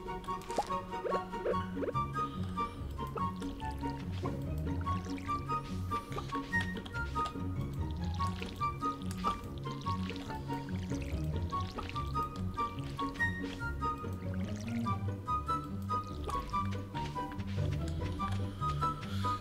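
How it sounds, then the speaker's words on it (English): Watering plants with a watering can in Stardew Valley gives repeated soft splashing plops that come steadily over looping background music, with no talking. "Hey, we gotta water our plants."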